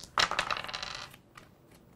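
Dice rolling in a board game: a quick clatter of several dice tumbling onto a hard surface, a bright rattling burst that settles and fades, then a small tap at the end.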